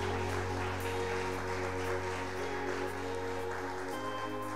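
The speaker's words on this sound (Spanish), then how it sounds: "Dele un fuerte aplauso al Señor." A church congregation claps loudly and continuously during a Spanish-language service, the applause blending with sustained organ-like music tones underneath.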